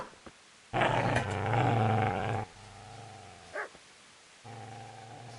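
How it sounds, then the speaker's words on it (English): A dog in Kingdom Come: Deliverance growls low and rough, with a loud snarling burst followed by quieter rumbling growls and a brief yelp-like bark. "Get away, you mutt!"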